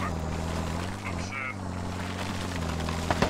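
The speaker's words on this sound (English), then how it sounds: "So they're gonna extract him by helicopter, it looks like." Helicopter rotor drone from the game Squad, a steady low throb arriving for an extraction, running continuously under players' radio chatter.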